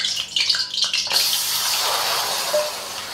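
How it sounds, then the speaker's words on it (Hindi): Chunks of mutton hit a karahi of lightly heated ghee, setting off a loud, steady broadband sizzle that swells after the first second and carries on to the end. "अभी मैं इसके अंदर मटन डालूंगा"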